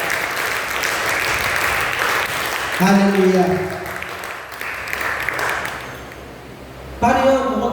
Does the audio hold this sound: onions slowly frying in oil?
no